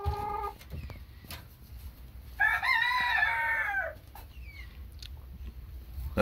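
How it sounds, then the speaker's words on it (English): A young Barred Rock Silkie rooster in a chicken coop gives a single short, strained crow, fairly close and clear, with quieter clucking and faint yard noise around it. "he was just trying to crow there, so definitely a roux"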